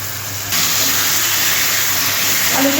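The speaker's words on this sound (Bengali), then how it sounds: "আলুটা আমি কষিয়ে নিচ্ছি।" Mashed boiled potatoes sizzle in a hot pan for egg curry, a steady, close hiss that grows slightly louder after a moment and continues without talk.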